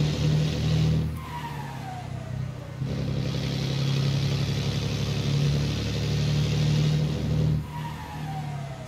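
A truck engine droning loudly as it strains uphill on the Serra de Ubatuba climb in a truck simulator game, with a heavy LS Librelato rig, steady and sustained with pitch shifting between gear changes.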